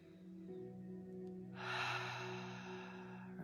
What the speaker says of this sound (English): Breathe in again.